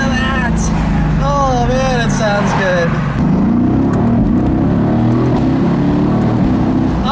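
A 2018 Mercedes-AMG GT C Roadster's bi-turbo engine rasps and roars through quick manual downshifts on the dual-clutch gearbox, loud and close, with someone talking over the first half.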